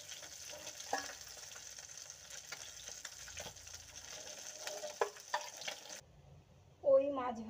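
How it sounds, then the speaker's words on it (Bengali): Small parshe fish frying in hot oil, a steady crackling sizzle with occasional sharper spits, close and fairly quiet, stopping abruptly before a brief louder clatter at the end. "প্রথমে আমি 5টা মাছ ভেজে নেব।"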